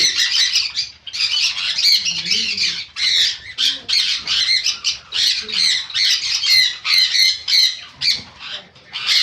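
A flock of budgerigars in a bird shop chatters and squawks nonstop, shrill overlapping calls close by, with brief pauses between bursts.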